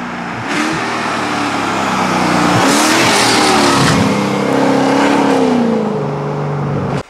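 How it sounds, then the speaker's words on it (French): A modified Mercedes C63 AMG with exhaust valves closed revs loudly and repeatedly close by, its V8 note climbing and falling in sustained surges with no talk over it, cutting off abruptly at the end. "Et déjà valve fermée, ça fait plus de bruit qu'une C63 normale."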